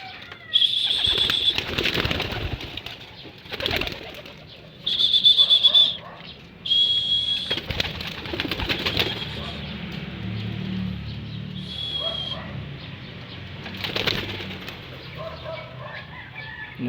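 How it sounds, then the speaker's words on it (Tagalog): A flock of pigeons taking off, with bursts of loud wing flapping that come and go over several seconds, and faint whistling and bird calls in between. "So magpapalipad muna tayo mga kalapatids"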